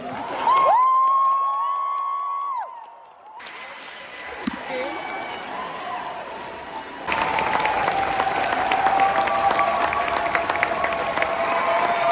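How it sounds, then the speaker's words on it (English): Sustained crowd applause for the graduating nursing class of McEwen University at a graduation ceremony, swelling to a loud, dense clatter in the second half after quieter voices and amplified sound earlier. "Round of applause for the McEwen University graduating class of 2026."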